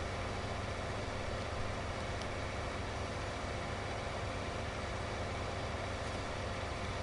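Tractor engine idling in Farming Simulator 19 on PS4, a steady, even drone that holds without change for several seconds, with no one talking.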